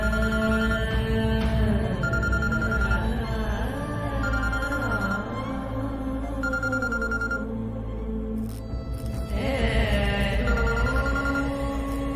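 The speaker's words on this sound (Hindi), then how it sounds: "उसका फोन ट्राई करता हूँ।" A phone call ringing out unanswered while trying to reach someone, a repeating electronic ring pattern under a dramatic music score that swells and shifts throughout, fairly loud and continuous.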